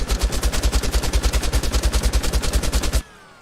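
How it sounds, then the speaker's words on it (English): Doom chaingun sound effect: a rapid, steady burst of loud machine-gun shots, roughly a dozen per second, running about three seconds before cutting off abruptly to quiet. "here we have our chain gun"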